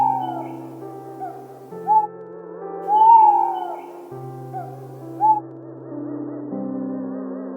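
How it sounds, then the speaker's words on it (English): An owl hoots three times, short clear calls spaced a second or two apart, set over a soft steady musical backing. "What does the owl say?"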